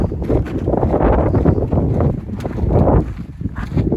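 Strong wind gusting across a wind farm along the Pacific Crest Trail, a loud, steady roar buffeting the microphone with surging peaks, no voices.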